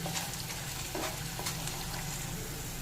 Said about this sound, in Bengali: এবার একটু ভালো করে নেড়েচে একটু রান্না করে নেব দু তিন মিনিট মতন একটু নেড়ে একটু রান্না করে নেব